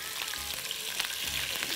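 Steak sizzling and frying in a pot, a steady dense hiss with faint crackles, close and continuous with no talk over it.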